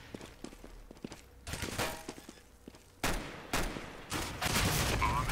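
Rapid gunfire bursts from a Counter-Strike match on the de_mirage map, with quick pops early, then louder sustained volleys of shooting, close and sharp.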